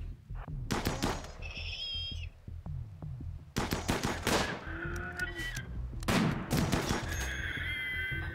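Rapid bursts of automatic gunfire from a Rimworld colony battle, clustered volleys with short gaps and scattered single shots, loud and close with electronic game effects in between.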